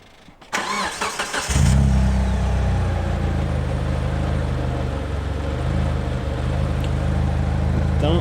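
A Mitsubishi Eclipse fitted with an exhaust line starts up close by, catching after a few cranks and then holding a loud, steady, slightly rough idle with faint revs.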